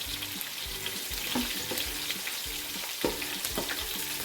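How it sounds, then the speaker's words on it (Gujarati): Roasted chickpea dal fries in hot oil with a busy crackling sizzle and frequent stirring clatter against the pan, close and continuous with no talk. "એ દાળિયાની દાળ સરસ રીતે તેલમાં તળાઈ જાય"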